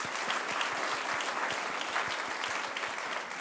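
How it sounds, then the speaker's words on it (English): An audience at a social entrepreneurship awards event applauds an honoree, producing sustained, fairly even clapping from a large crowd with occasional heavier low thumps mixed into the steady wash. "So let's give Barry a round of applause."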